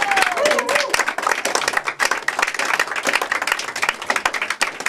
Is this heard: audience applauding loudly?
yes